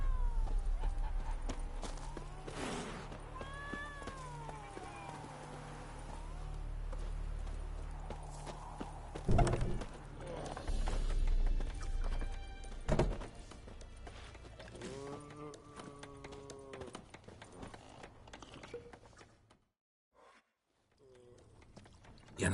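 Hooves of Roach, Geralt's horse in The Witcher 3: Wild Hunt, a rhythmic clip-clop of a horse moving along, mixed with game music, a brief whinny-like call and occasional voices, fading near the end.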